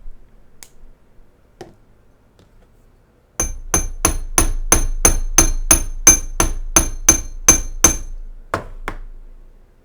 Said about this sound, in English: Hammer that curve a little bit